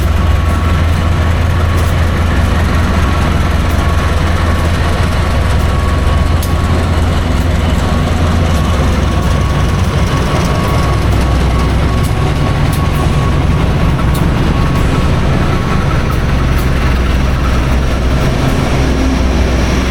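An Indonesian passenger train, the Senja Utama hauled by two locomotives, departs past a closed railway level crossing, making a loud, steady, continuous rumble of engines and rolling wagons with no talk.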